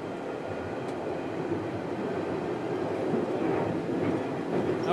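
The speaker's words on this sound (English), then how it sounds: "Departing Stratford, the DLR Poplar Branch platforms come into view on our left." A London Underground Central Line train pulls out of Stratford, a steady rumbling roar with faint rail clatter that slowly grows louder as it gains speed.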